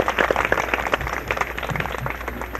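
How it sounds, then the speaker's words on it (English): An audience applauds during a 1973 building dedication at the W.S. Berger Memorial Building: a steady burst of many hands clapping, moderately close, filling the whole moment without speech. "Big round of applause here for Mr. David Raisor."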